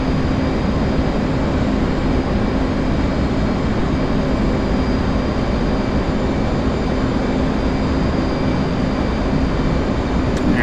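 An F/A-18 Hornet jet in the DCS: World flight simulator during aerial refueling practice, its engine noise a steady, unbroken broadband roar holding at a constant level throughout, with no voices.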